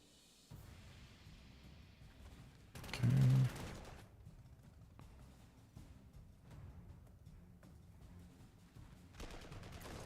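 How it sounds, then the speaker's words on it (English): Artillery fire rumbles in the strategy game Panzer Corps 2, with a heavy booming salvo standing out midway over a low battle bed and scattered distant shots. "Lots of artillery there on those boys."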